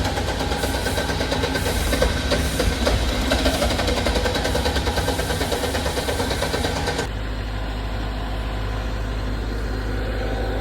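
A 40 kVA diesel generator set runs with a loud, steady low engine drone and rattling mechanical texture, shifting to a smoother, lower idle hum partway through.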